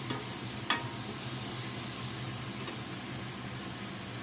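Steady sizzling of onion frying in a pan, with a faint clink of a utensil near the start; no voices.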